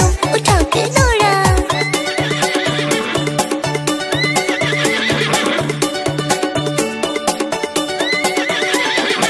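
A horse whinnies loudly at the start, followed by steady rhythmic galloping hoofbeats that repeat evenly throughout, set against a musical backing.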